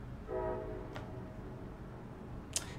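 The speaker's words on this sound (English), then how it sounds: "the train sound seems to be carrying well tonight" A train sounds its horn in the distance at night, a brief tonal blast carried over a low rumble, followed by faint clicks and a sharp tick near the end.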